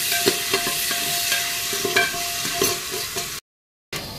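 Oil sizzles and crackles in a pressure cooker on a gas stove as popcorn kernels begin to pop, with scattered sharp ticks and pops over a bright frying hiss, then a brief silence before the sizzle returns.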